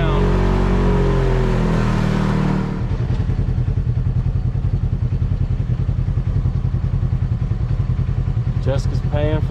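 A rented Polaris RZR side-by-side rolls through town in Moab, its engine giving a steady low rumble with rhythmic clatter after a louder opening rev, while people talk over it near the end.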